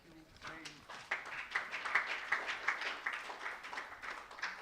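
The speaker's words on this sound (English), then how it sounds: "Another round of applause for Professor Linda Kwamdong." Audience applause after a speech at a policy event on domesticating the National WEE Policy, faint and fairly even pattering clapping that begins after a brief stretch of talk and continues to the end.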